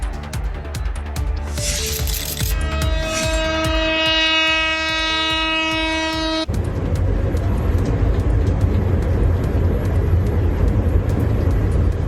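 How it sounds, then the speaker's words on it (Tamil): A Vande Bharat sleeper train runs with a loud, sustained horn for several seconds over a heavy rolling rumble, then continues as a dense, steady clatter of wheels and carriages without the horn. "நம்ம ஊர் வந்தே பாரத் ஸ்லீப்பர் ரயில் தான்."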